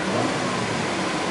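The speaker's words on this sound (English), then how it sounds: "Rev it up." Engine of a 2000 Fleetwood Bounder 36S motorhome revving steadily up close, a continuous loud roar with no pauses and no voices.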